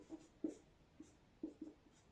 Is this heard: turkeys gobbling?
no